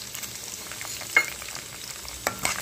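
Cumin, garlic, urad dal and chana dal sizzle and crackle in hot oil for a tempering, a steady frying hiss with a couple of sharper pops and stirring scrapes, close by and alone.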